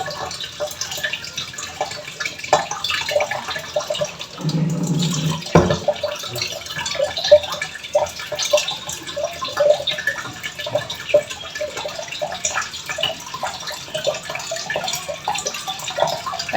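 Weak trickle of tap water running into containers in a home kitchen, a soft steady flow heard alone with small drips and clinks, plus a brief louder bump midway.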